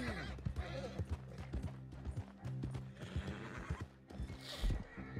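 In Red Dead Redemption 2, a horse's hooves clop irregularly on the ground, punctuated by several snorts and a loud whinny near the end, close and clear.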